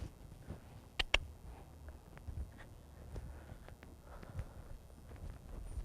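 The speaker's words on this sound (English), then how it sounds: "Half-broke horses." Half-broken horses pulling a forecart make uneven hoof clops and shuffling steps on the ground, fairly faint and irregular, with a couple of sharper knocks near the start.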